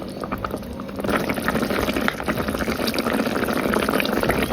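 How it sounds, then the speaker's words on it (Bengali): Homemade onion bori lentil dumplings bubble in a pot of curry, a steady, close, dense simmering burble that holds for the whole stretch with no voices. "বড়িগুলো একটু সিদ্ধ হোক"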